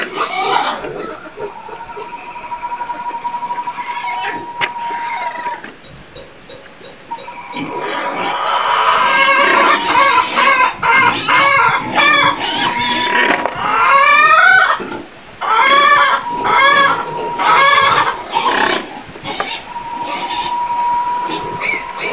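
Pigs on a farm grunt and squeal in a loud, busy chorus with rapid repeated oinks, alongside chickens and a steady high tone.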